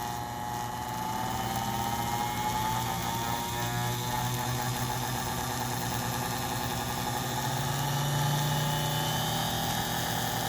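The electric motor of a piece of medical equipment, driven by a speed controller board, runs at raised speed with a steady mechanical whir and faint ticking, constant and close throughout.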